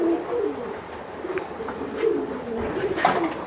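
Racing pigeons coo nearby in soft, repeated rolling calls, a few overlapping phrases across a few seconds against a quiet background.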